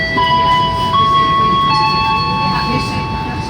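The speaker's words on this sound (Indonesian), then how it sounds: "kereta api Wijaya Kusuma yang saya naiki pada perjalanan kali ini sudah diizinkan berangkat kembali meninggalkan stasiun Banyuwangi Kota" Wijaya Kusuma passenger train pulling out of Banyuwangi Kota station, heard as a loud, steady rumble with sustained tonal whine lines shifting in pitch as it gets under way.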